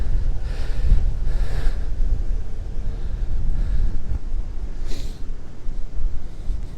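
A strong gale blows across a street corner at Anzac Parade and Moore Park Road in Sydney, roaring and buffeting the microphone in heavy continuous gusts, with no voices.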